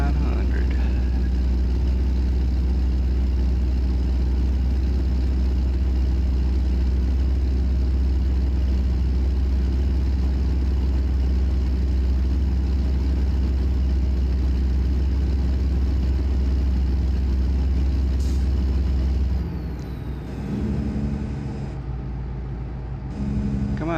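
Deep, rumbling idle of a Kenworth W900 truck engine in a driving video game, a steady low throb that runs alone for most of the stretch before the tone shifts and thins near the end.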